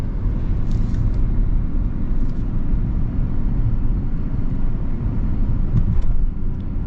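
Steady low rumble of road and engine noise inside a used Range Rover while driving, continuous and even, with faint rattles and creaks over the drone.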